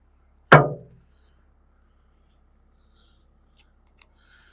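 One sharp metallic click as a retainer pin is pulled from a Land Rover, followed by a few faint small taps and near silence.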